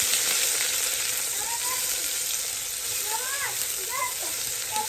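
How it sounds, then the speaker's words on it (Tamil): Chopped onions sauté in a pot for a spicy mutton curry, giving a steady, close sizzle and crackle with a few faint voices in the background. "ஸோ இது நல்லா வதங்கட்டும்."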